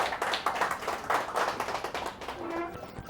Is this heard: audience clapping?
yes